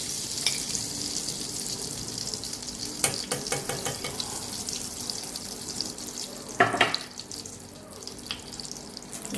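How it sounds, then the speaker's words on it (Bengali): Ghee sizzling and crackling as it hits a hot wok, a steady frying hiss with a few short clatters and one louder splash of activity midway, no talking. "এবার আমি দিয়ে দিচ্ছি ঘি।"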